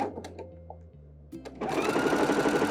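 A sewing machine sews a lightning bolt stitch along a skirt side seam. A few slow stitches and pauses lead into a fast, steady stitching whir that runs to the end, close and alone.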